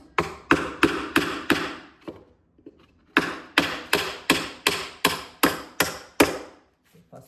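A nail tapped against a stuck piece of natural stone on a fireplace, sharp, close metallic knocks in a steady even rhythm, one quick run, a short pause with a couple of faint taps, then another run.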